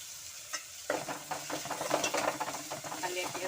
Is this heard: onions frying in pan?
yes